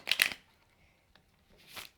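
A short burst of tarot cards riffling and flicking together at the start, a quiet pause, then a softer second shuffle near the end, close up.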